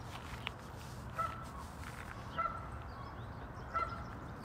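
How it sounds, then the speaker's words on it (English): Geese on East Lake in Seattle give three evenly spaced honks at middle distance over a steady outdoor background of water and ambient noise. "you can definitely hear those geese. It's a little loud."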